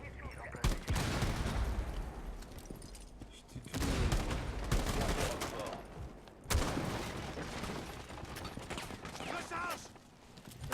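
Bursts of gunfire in the Rainbow Six Siege video game, with several loud rapid volleys separated by short pauses and dense noisy shooting filling most of the stretch.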